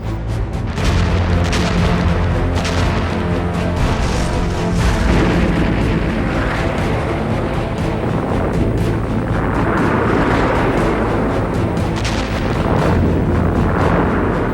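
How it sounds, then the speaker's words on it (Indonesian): Artillery fire and explosions in the 1965 India–Pakistan war over Kashmir: loud, continuous rumbling booms overlap in a dense, heavy barrage with no talk. "artileri Pakistan menembaki seluruh dataran Cham, Kashmir"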